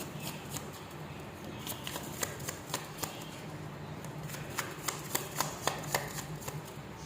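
Tarot cards being shuffled and drawn: faint, soft papery flicks and snaps, scattered and then quicker, over a low steady room hum, close but quiet, no talk.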